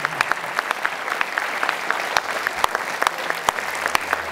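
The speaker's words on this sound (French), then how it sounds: "on les applaudit bien fort" A crowd at the final rally of a presidential campaign in Cahors claps in scattered, sharp bursts, the individual hand claps standing out clearly instead of merging into a steady roar.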